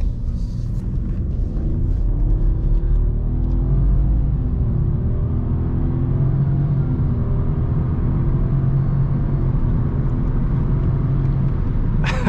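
Steady, loud engine rumble and whir from a car driving and turning, with a low continuous drone and slight rises in pitch. There are no clear voices.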